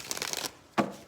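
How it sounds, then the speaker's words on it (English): Tarot cards are shuffled in a quick riffle, a rapid run of papery flutters followed by a single sharp tap as the deck squares up, close and fairly quiet. "All right, one more shuffle."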